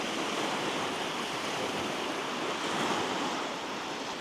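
Waves wash onto a beach in a steady, faint rush of surf, with some wind noise and no voices.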